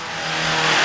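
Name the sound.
Hyundai Santa Fe engine revving during sudden acceleration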